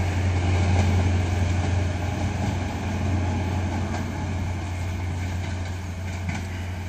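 A train rumbles through Exeter St David's station on the Great Western Main Line on a Sunday evening, a steady low drone with engine hum running the whole time, fairly loud and close, with no voices.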